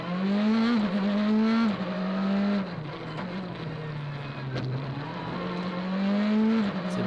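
A Skoda Fabia R5 rally car on a tarmac rally stage at Ypres revs hard, its engine pitch rising and falling through gear changes and cornering, loud and close with no talking.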